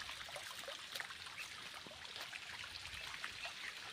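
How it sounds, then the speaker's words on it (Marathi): Well water flows steadily into a sugarcane field in the midday heat, a faint, continuous trickling and splashing with no voices over it. "केलं उसाला पाणी चालू"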